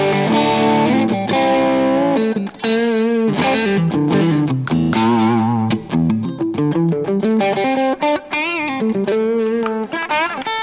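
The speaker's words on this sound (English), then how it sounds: "And I just turned on the green distortion, which is Tube Screamer-ish," Electric guitar, a Fender Player Series Mustang, played through a Kemper Profiler with a green Tube Screamer-style distortion at about half gain; loud, sustained overdriven chords and melodic lines ringing continuously and up close.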